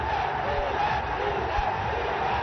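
A large cricket crowd at Sylhet International Cricket Stadium roars after a six, a dense, steady wash of cheering heard from within the stands.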